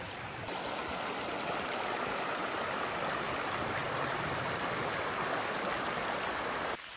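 A creek in central Arizona, swollen after an inch of overnight rain, rushes steadily and loudly, a dense continuous wash of flowing water close by with no voices.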